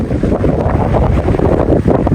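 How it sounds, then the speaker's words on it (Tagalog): Strong wind roars and buffets the microphone continuously in Greenland near docked cruise ships, a heavy low rumble with no voices. "Malakas lang yung hangin mga kabayan."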